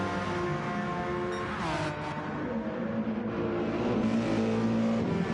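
Race cars in the Gran Turismo racing game, including a Porsche and an AMG GT3, engines droning and revving steadily through the whole stretch with one rising gear-change whine, loud and continuous without speech.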